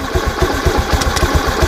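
A motorcycle engine revs up and holds a steady, pulsing mid-range drone with no speech over it. The bike is being tested with its air suction valve blocked.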